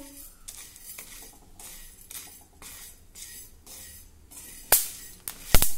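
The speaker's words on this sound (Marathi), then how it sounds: "इथे लोखंडाच्या तव्यावर आपल्याला 2 टेबलस्पून ज्वारी भाजून घ्यायची आहे." Sorghum grains are roasted and stirred on an iron griddle over a low flame, with rhythmic scraping strokes repeating about every second and two sharp metallic clanks near the end.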